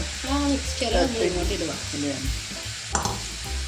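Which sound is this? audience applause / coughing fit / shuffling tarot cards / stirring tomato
stirring tomato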